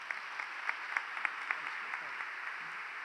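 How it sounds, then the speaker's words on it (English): Applause from an audience at a summit awards ceremony honoring recipients, a soft, distant wash of clapping with scattered sharper claps, steady throughout and fairly faint. "please join us in giving all of the recipients a round of applause for the vision and hard work"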